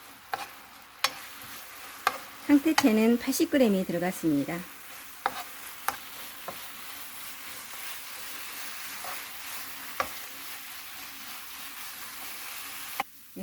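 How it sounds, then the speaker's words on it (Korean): Dried pollack strips are stir-fried in boiling seasoning sauce, giving a soft steady sizzle with scattered scraping stirs and spatula taps, while someone speaks briefly over it. "이렇게 양념을 끓여서 볶음을 해주면은 며칠이 지나도 촉촉해요."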